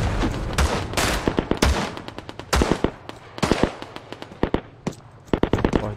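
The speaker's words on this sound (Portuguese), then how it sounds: "Tá rolando um tiro ali." Gunfire in the World War II shooter Hell Let Loose during city combat, dense bursts of sharp cracks and rapid automatic volleys, some close and loud, others more distant, continuous and without talking.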